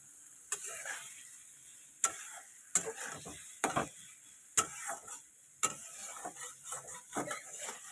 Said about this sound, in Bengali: এই যে মশলাটা আমি পুরো দিয়ে দিয়েছি এবার একদম ভালো করে কষিয়ে নেব